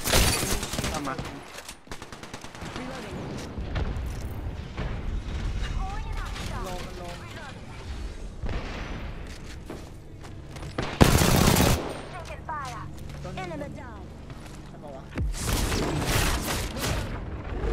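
Bursts of gunfire ring out during an Apex Legends match, automatic rattles and sharp shots of varying loudness with a couple of louder blasts, amid game effects.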